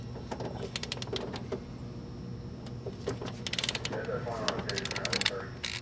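Snap-on torque wrench breaking loose the head stud nuts on a Dodge Challenger engine during a head and supercharger swap: a series of sharp ratcheting clicks and metallic snaps in short bursts, fairly close, over a low steady shop hum.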